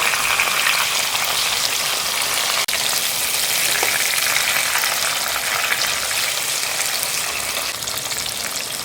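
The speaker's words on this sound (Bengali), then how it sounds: "এরপর অপর পিঠটাও একটু এরকমভাবে লাল করে ভেজে নেব" Steady, loud crackling sizzle of katla fish frying in hot oil, continuous throughout with no voices.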